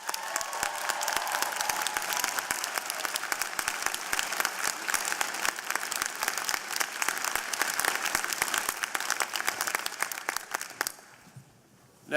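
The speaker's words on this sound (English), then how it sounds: "let's give them a round of applause" A large crowd at a graduation convocation ceremony applauds steadily for about eleven seconds, a dense continuous clatter of clapping that fades out near the end.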